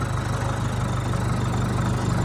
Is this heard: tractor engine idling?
yes